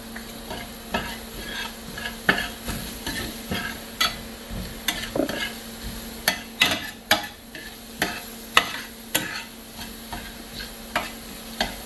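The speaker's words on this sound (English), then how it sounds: "we're just going to wilt these peppers down a little bit" Poblano peppers sizzle in a pan with garlic powder, a steady frying hiss broken by repeated sharp clacks and scrapes of stirring at an uneven rhythm, close and clear with no talking.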